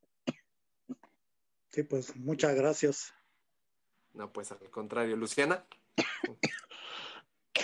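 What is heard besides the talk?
coughing fit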